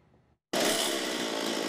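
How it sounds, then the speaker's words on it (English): A chainsaw roars into life after a brief quiet gap and then holds a loud, steady, close whine as it cuts into a block of wood being carved into a sculpture in a studio in East Austin. "her chainsaw starts revealing her next character"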